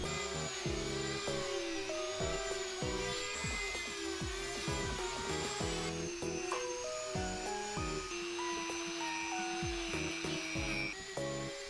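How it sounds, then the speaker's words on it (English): A Dremel rotary tool grinds foam cosplay armor, giving a steady high whine that rises and dips in pitch through repeated short passes, close and loud with no talk. "we'll have to start dremeling it"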